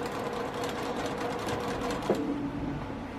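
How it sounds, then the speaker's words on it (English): A sewing machine stitches quilt pieces for a scrappy flying geese sashing, running in a steady rapid hum of needle strokes at close range with a brief bump near the end. "I'm just going to nudge that right underneath and continue stitching."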